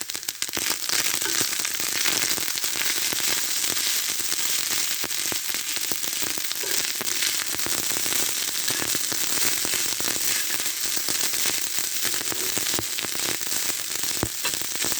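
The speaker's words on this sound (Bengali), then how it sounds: "এবার আমি দুই থেকে তিন মিনিট নেড়ে চেড়ে নেব ভালোভাবে মিক্স করে নেব" Cooked rice stir-fried with turmeric and salt in a pan, a loud, continuous sizzle and crackle with fine pops running evenly for about fifteen seconds, no talk over it.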